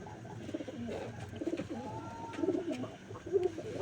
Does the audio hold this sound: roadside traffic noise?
no